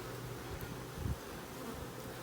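Honey bees swarm around an opened Slovenian AZ hive kept in Hawaiian style, a steady close low buzz with a brief louder swell partway through, with no talking.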